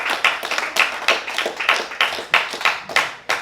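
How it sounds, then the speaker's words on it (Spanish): A church congregation claps along during a sermon in steady rhythmic unison, sharp, loud, evenly spaced beats repeating about three times per second. "¿Alguien le puede dar aplausos"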